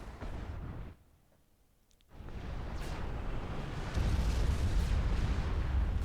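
AC1K units fire on an ACU in Supreme Commander 2, a dense roaring wash of weapon blasts that drops out for about a second, then returns and grows heavier and louder.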